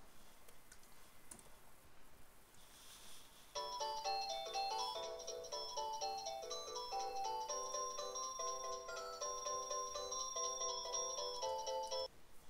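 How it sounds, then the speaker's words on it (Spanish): A home telephone rings during a math lesson, a bright melodic electronic ringtone pattern of repeating tones that starts abruptly partway through and continues steadily for about nine seconds over a quiet room. "Perdón por eso era el teléfono de mi casa"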